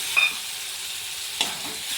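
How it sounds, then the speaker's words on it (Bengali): Prawns dropped into frying spice masala, raising a loud, close, continuous sizzle with two brief sharper bursts as pieces hit the hot oil. "এর মধ্যে আমি চিংড়ি মাছগুলো দিয়ে দিলাম।"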